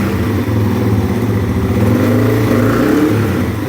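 A Yamaha TW200 motorcycle engine runs with a carburetor fault, idling with a rough, uneven, sputtering throb and slight hesitation, loud and close and continuous without talk.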